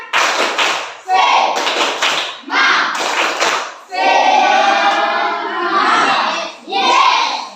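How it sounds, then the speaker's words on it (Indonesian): Classroom students perform a rhythmic spirit clap, short loud bursts of group clapping in a patterned beat while their voices chant along in unison, close and energetic. "Nah, kalau siap, kita tepuk semangat"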